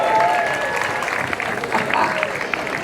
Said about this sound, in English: Give them a cheer! Olympus Cheer!